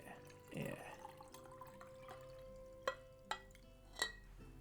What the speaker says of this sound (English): You guys get the Eira ting all the time when I pour water into my cup